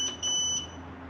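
Alarm on a Glowatt SPF5000ES off-grid solar inverter, a steady high electronic beep sounding in two close pulses over a faint background hum, fairly loud and with no voices.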